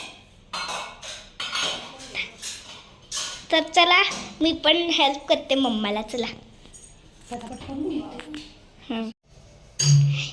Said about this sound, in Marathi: हे बघा आता भांडी ठेवून झाली